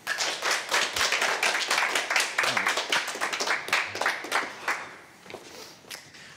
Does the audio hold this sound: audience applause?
yes